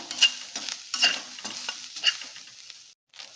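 Flattened rice and grated coconut being stirred and roasted in a pan, with repeated scraping strokes over a light sizzle, then a brief silence near the end.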